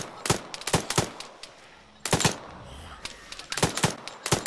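Heavy automatic gunfire in a video game comes in sharp clustered bursts of rapid shots, loud and close, separated by short quiet gaps.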